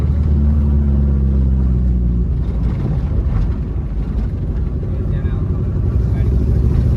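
A car driven by a learner driver on the way to the Mahadev temple at Devgad rumbles steadily inside the cabin, its low engine drone continuous and close, with people talking over it.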